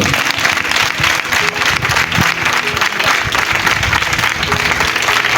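A church congregation gives sustained, loud applause for the Lord after a sermon, a thick continuous clatter of many hands with a faint sustained tone underneath.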